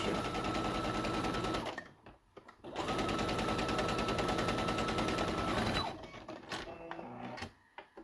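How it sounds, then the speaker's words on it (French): A sewing machine runs steady and loud as it stitches a fabric seam on the marked sewing line, sewn right sides together, pauses briefly, resumes, then slows into a few irregular stops and starts near the end. "je vais pouvoir coudre maintenant sur ma ligne de couture"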